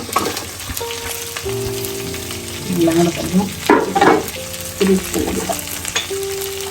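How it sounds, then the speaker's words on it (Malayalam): Small onions split in halves and sliced onions fry in a pan for Kerala-style beef roast, a constant close sizzle with louder bubbling surges and stirring, alongside steady background tones. "ഇനി 2 സവാള മുറിച്ച് വെച്ചിട്ടുണ്ട്, അത് ഇതിലോട്ട് ചേർക്കുകയാണ്."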